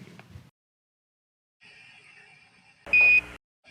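An Amazon Alexa smart speaker sounds a short, bright notification chime, a single loud tonal blip that follows a quieter hum and a brief earlier noise, set against an otherwise silent room.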